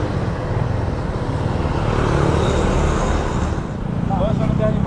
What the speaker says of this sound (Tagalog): haba ng traffic